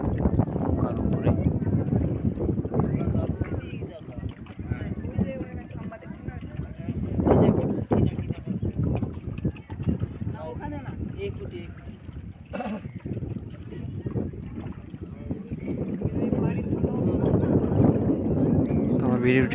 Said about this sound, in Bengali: আমরা এখন নদীর উপরে আছি